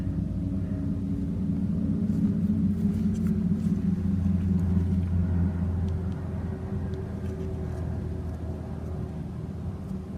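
A steady low rumble of military helicopters overhead at Fort Hood, droning continuously and fading slightly toward the end, with no voices.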